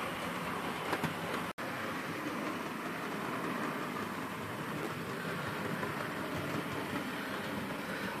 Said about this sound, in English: so this train can be returned to its siding where it came from originally